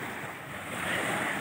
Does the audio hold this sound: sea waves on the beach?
yes